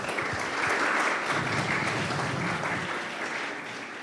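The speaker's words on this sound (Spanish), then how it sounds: "para quien pido un aplauso, por favor" An audience at a Universidad Veracruzana event applauds steadily for about four seconds, a dense, loud clapping that fades slightly toward the end.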